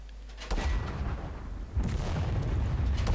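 Two heavy booms from an M10 tank destroyer's gun in a wargame sound about a second apart, each followed by a rumbling, crackling tail of distant battlefield noise.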